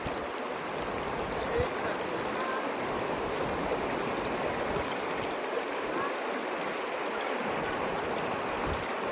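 Clear stream water at Markakol flows in a steady, full rushing wash, continuous and close, with faint voices now and then.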